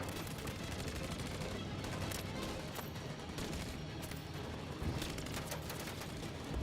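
Video game gunfire with dense, continuous bursts of rapid shots and booms, heard at moderate level throughout with no voices on top.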